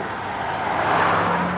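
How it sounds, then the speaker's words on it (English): A car passes close by, its engine and tire noise swelling and then easing slightly against steady road hum. "I'm sorry if you can't hear me, but cars are going past."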